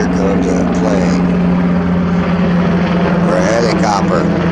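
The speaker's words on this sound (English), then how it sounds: "And here comes a plane." Aircraft drone, a plane or helicopter passing over at night while stargazing, a steady low engine hum with a strong tonal line that holds throughout, with faint voices and some brighter noise drifting in near the end.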